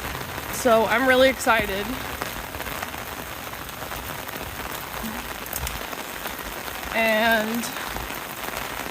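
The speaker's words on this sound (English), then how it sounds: "look at this rain though. Oh my god, it's wild." Heavy rain pours in Tokyo as a dense, steady hiss that fills the whole stretch, with a person briefly talking over it near the start and again near the end.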